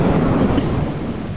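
A lightning strike in the video game Lethal Company sets off a loud, broad rumble of thunder that rolls on steadily and starts to ease off toward the end.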